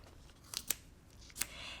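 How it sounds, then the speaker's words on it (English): Sharp scissors snip through quilt fabric, with two or three crisp, close cuts spaced apart against a quiet background. "You can just chop those off with your scissors"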